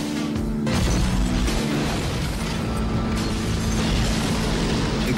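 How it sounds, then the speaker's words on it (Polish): A movie trailer explosion roars continuously, a dense rumbling blast with crashing debris that stays loud and sustained across the clip. "Eksplozja."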